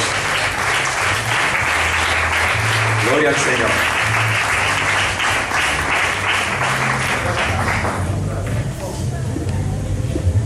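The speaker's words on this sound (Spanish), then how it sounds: "Pues vamos a recibir con un fuerte aplauso" A church congregation gives loud, sustained applause to welcome an evangelist, continuous clapping with someone speaking over it and background music beneath.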